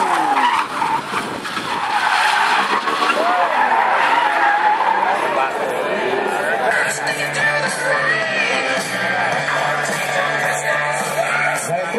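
A Nissan Skyline R32 pickup with a marine engine drifts during qualifying at a Brasília drift championship. Loud, sustained tire screech and a hard-revving engine fill the clip while a commentator talks excitedly over it.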